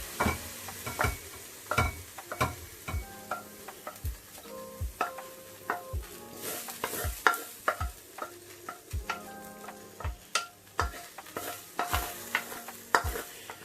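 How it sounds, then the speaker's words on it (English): Mushrooms cooking in a pan for a beef fricassée, with steady frying sizzle under repeated sharp clacks of a utensil stirring and scraping against the pan, close and fairly loud, no talking. "then I'm going to cook my mushrooms"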